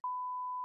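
A single steady censor beep on a podcast, a pure electronic tone held for under a second, loud and alone with no talk over it.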